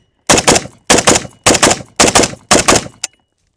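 A run of five sharp gunshots from an IWI Galil Ace .308 pistol, fired at a steady pace about half a second apart, loud and close with short ringing tails, and a brief click or clipped shot at the end.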